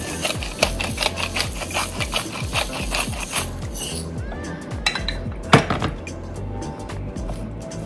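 Cabbage slaw with salt and black pepper being tossed in a bowl: a steady run of crisp, scraping, rustling strokes, loud and close, with scattered clinks of a utensil against the bowl and no talk.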